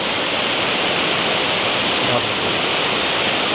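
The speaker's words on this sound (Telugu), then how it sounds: "ఆ వాటర్ ఫాల్స్ కిందకైతే ఎవరు వెళ్ళట్లేదు ఎందుకంటే ఫోర్స్ హెవీగా ఉంది" Sirimane waterfall near Sringeri, Karnataka, in heavy flow roars as a loud, dense, unbroken rush of falling water close by, with no pauses.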